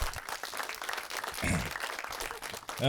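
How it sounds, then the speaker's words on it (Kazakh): An audience at a stand-up comedy show applauds, a dense, continuous clatter of many hands clapping that swells and carries on through the whole stretch, with no talk over it. "Сіздер қатырақ шапалақ ұрыңыздар"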